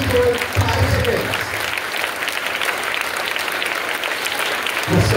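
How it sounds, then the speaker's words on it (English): A school audience at an exam results announcement claps loudly for several seconds, a continuous patter of many hands, with brief voices at the start and end. "Please clap loudly. Clap loudly for 5 seconds."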